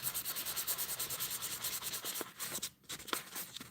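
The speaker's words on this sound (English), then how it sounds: "I'm going to start working on the marks left for the sandpaper now" Sandpaper rubbing a metal box section of a custom e-bike hub in rhythmic back-and-forth strokes, close and steady, then a brief pause before a few more strokes.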